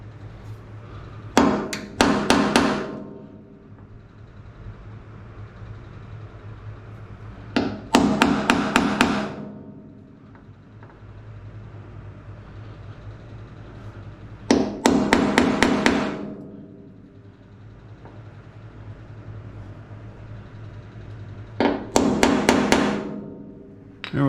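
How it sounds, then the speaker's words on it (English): Four separate bursts of sharp metallic hammer strikes on a center punch into metal, each a quick cluster of blows, spaced several seconds apart with quiet in between. "I'm going to center punch these the best I can, dead center."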